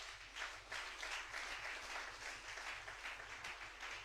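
A church congregation applauds and cheers for the pastor's son, producing steady clapping at a moderate distance over a low, constant hum.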